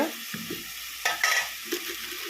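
A spoon scrapes and stirs an old-style prawn curry with tomatoes and mixed vegetables in a pan, several close strokes over a soft simmering sizzle.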